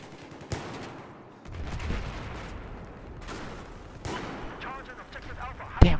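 Several sharp gunshots ring out in a video game, spaced a few seconds apart with a final loud crack near the end, layered over busy in-game noise and some voices.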